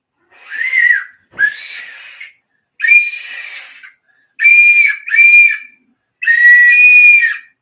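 A person whistles in imitation of a bird, six short bright chirping phrases separated by brief silences, loud and close with no talk.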